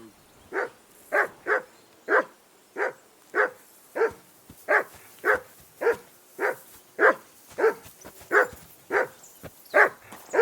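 A dog in the medieval game Kingdom Come: Deliverance 2 barks over and over in a steady, rhythmic run of about twenty sharp, fairly close barks, alone against a quiet background.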